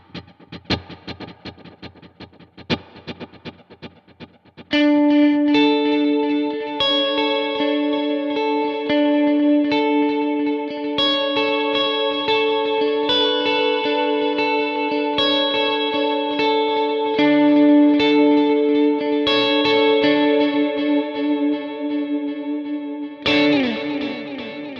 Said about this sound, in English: So we've got 2 delays and a reverb running right now.